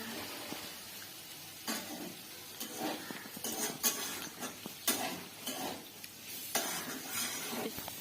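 Pasta sizzles steadily in a hot pan after being poured in, with bursts of crackle and scraping stir strokes rising and falling over eight seconds; no one speaks.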